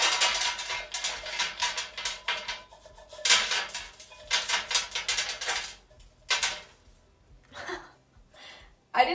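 A metal baking sheet pulled out in a kitchen, with a run of clattering pan and cutlery knocks in bursts, close, followed by quieter rustles and a voice murmuring.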